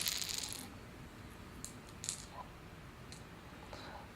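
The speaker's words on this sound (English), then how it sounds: "And then you take your 8 energy dice and you roll them." Eight energy dice for the Capes Villains board game are rolled onto a table, giving a brief cluster of light clacks and rattles near the start, then a few scattered small clicks as they settle.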